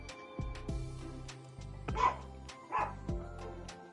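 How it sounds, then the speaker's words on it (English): Several barks from a dog next door in the visual novel Doki Doki Literature Club side stories, spaced yips and woofs over soft background music, fairly quiet. "I hear the dog club next door."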